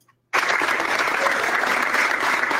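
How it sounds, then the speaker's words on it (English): Store staff clap steadily for shoppers entering on Black Friday. The applause starts abruptly after a brief silence and continues as a dense, moderately loud patter with faint crowd murmur. "The store people are clapping like, hey, they're here to shop."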